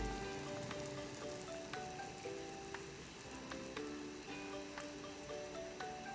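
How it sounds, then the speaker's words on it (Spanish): Kumquats in whisky syrup boil in a pot, giving a quiet, steady crackling bubble with scattered pops, while soft tonal background music plays underneath. "Ahí ya está hirviendo, ese es el primer hervor"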